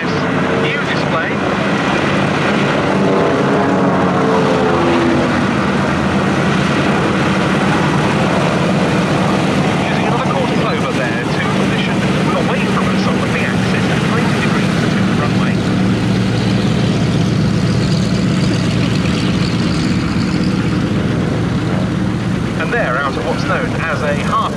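A Spitfire IX and a C-47B Dakota propeller aircraft fly a display overhead, their engines droning loudly and continuously and shifting in pitch as they pass, with a commentator talking over them.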